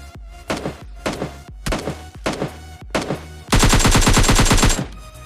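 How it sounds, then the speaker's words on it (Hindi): Gunfire in the mobile battle-royale game PUBG Mobile Lite: several loud separate shots with gaps between them, followed by a dense rapid burst of automatic fire that stops just before the end. "तभी पीछे से बॉट फायर दे रहा होता है"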